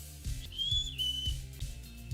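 A man whistles to call his children: one clear, sustained whistled note that rises and then eases down, heard alone over faint background thumps.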